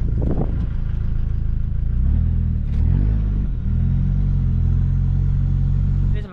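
A modified Toyota Innova with a 2KD diesel engine holds a loud, low rumble at the line, then launches hard under launch control. Deep, continuous engine roar with a brief shift-like dip, close and dominant, with no talking.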